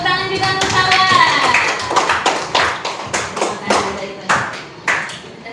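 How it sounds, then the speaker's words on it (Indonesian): A small group claps at a classroom teaching session, starting as overlapping claps and thinning into a few separate, evenly spaced sharp claps toward the end. "Tepuk tangan juga untuk sahabat."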